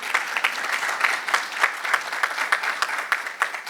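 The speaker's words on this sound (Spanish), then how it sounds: "Un aplauso para Lida María." Steady audience applause fills a book launch event, a dense, continuous patter of many hands clapping at moderate loudness that carries on without a break for several seconds.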